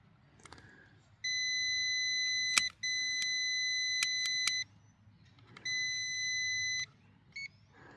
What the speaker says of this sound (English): We got a single beep.